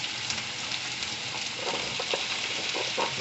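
Onions frying in hot oil in a pan while an omelette is made, a steady close sizzle with scattered crackles and pops that grow busier toward the end, no talk.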